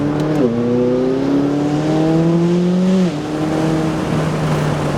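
A McLaren 720S accelerates hard, its engine note climbing steadily through a gear before a brief dip at the shift and another rising pull. Loud and close, with no talking.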